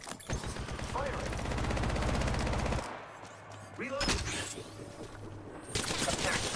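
Rapid automatic gunfire rattles in an Apex Legends firefight, with a long sustained burst, then shorter volleys and mechanical clicks, loud and close throughout.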